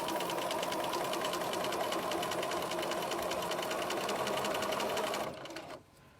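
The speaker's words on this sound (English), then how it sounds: "So I'm going to sew the one on the one side here using my 1/4 inch." A sewing machine stitches fabric along a quarter-inch seam, a fast, even mechanical whir with rapid needle ticking, close and steady, then slowing and stopping near the end.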